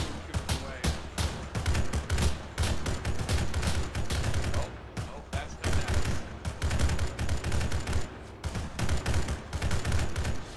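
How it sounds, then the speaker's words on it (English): Sustained machine gun fire rattles in ArmA 3, with long, dense bursts of overlapping rounds and brief pauses between volleys, loud and continuous across the whole stretch while voices talk intermittently. "Yeah, machine guns."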